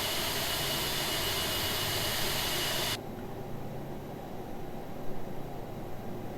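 An Aerosoft A330 jet engine spools up during startup in the Prepar3D flight simulator, a steady broadband whoosh and hum that drops to a lower, quieter rumble partway through.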